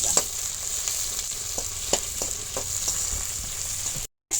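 Onion and garlic fry in a pan with a steady sizzle and crackle, punctuated by several sharp spatula scrapes and taps, cutting off briefly near the end.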